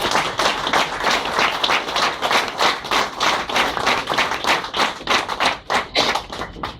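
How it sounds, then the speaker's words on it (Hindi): Loud applause from an audience at a gathering, strong rhythmic clapping with distinct beats, many hands striking close by in a brisk, fairly even pulse that runs for nearly seven seconds. "जोरदार तालियों के साथ।"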